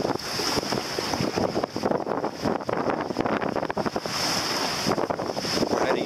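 A boat motors through Sand Shoal Inlet near Cobb Island against the tide. Strong wind buffets the microphone over a steady rush of engine and water, with no voices.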